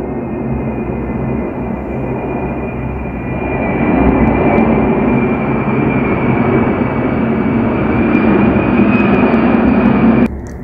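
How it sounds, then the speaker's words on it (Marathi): A steady, loud roar of an airplane flying overhead, swelling slightly midway and holding until it cuts off abruptly near the end. "आमच्याकडे खूप विमानं जातात आणि त्यामुळे त्यांचा आवाज सतत येत असतो"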